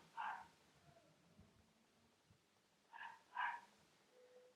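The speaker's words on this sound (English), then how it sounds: "I'm sorry if you can hear my dogs barking" Pet dogs barking from another room in a house, two short bursts of yips and barks, one at the start and a louder pair near the end, faint and somewhat distant over quiet room tone.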